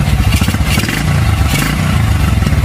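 Motorcycle engine with an open carburetor that has been turned out of tune, running loud and close with a rough, uneven idle and mechanical clatter throughout.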